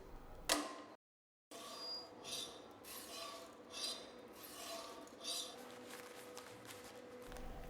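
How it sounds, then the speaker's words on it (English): A knife blade is drawn again and again along a whetstone, working from tip to heel on each side. The rasping metal-on-stone strokes sound close and steady in an even rhythm, with one brief silent gap near the start. "pull the stone back toward the handle between 6 and 10 times. Ensure the stone is running along the cutting edge at all times."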